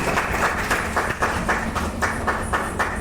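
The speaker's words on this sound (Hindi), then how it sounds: "एक जोरदार ताली से इनका स्वागत होना चाहिए" An audience at a Lucknow welfare foundation evening function claps to welcome a guest, a steady, fairly loud rhythmic clapping that carries on throughout without pause.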